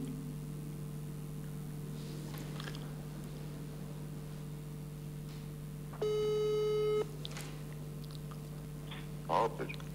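A telephone call being placed, with a steady tone beeping briefly mid-stretch over a low background hum, while people talk around it.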